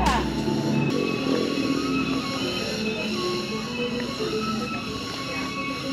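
Cicada-like animal buzzing near a banana tree in Munduk Village, Bali, a dense, continuous droning whir that stays loud and steady throughout, with a brief low rumble at the very start.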